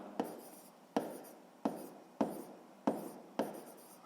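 A pen writes by hand through a sixth-grade math exercise, making six short, scratchy strokes at an even, steady rhythm. The strokes are close and quiet, with no talking.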